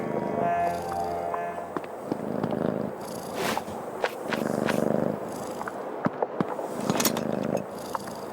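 A cat purrs in the video game Creepy Tale 2, a close, steady rumbling purr that pulses in several bursts alongside soft game ambience, with no talking.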